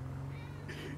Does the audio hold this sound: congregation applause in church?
no